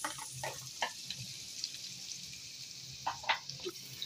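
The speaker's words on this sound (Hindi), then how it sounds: "प्याज को थोड़ा सा फ्राई करेंगे" Onions frying in cooking oil in a kadai, a faint steady sizzle with scattered louder crackles and pops, heard close with no voices.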